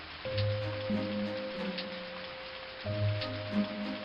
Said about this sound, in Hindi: बादलों की गड़गड़ाहट से पूरी धरती कांपने लगी और मूसलाधार बारिश शुरू हो गई।